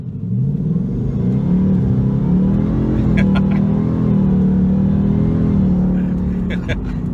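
A supercharged 2018 Mustang GT with a Whipple blower pulls hard under acceleration, a loud steady engine roar building inside the cabin with occasional brief sharp noises over it.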